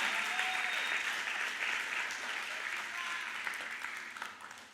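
A church seminar audience applauds in a sustained wash of clapping that holds steady and slowly fades toward the end, with no clear voices over it.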